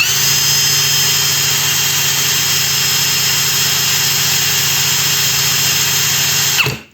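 A DEVETECH CIS 120 cordless drill runs steadily at its second speed setting, a loud continuous whine with a rough low hum, holding constant for about six and a half seconds before abruptly cutting off.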